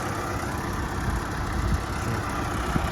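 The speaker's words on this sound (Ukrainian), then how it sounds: "Ми заглибили, прям тяжкувато по трактору, чую, що тяжкувато прям іде." An MTZ 892 tractor engine labours under load while pulling a cultivator through a field, a dense low rumbling drone with rough irregular thumps, steady and close throughout.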